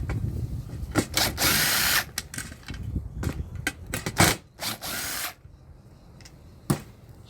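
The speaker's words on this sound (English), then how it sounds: "Gonna undo these screws here." Power drill backing screws out of a cast aluminium light fitting, several short whirring bursts of varying length with small handling knocks between, close and fairly loud, no talk.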